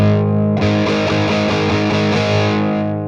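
An electric guitar plays loud and heavily distorted through a homemade volume pedal with a boost circuit set to very high gain, producing a sustained, saturated chord with repeated strums, alone without talk.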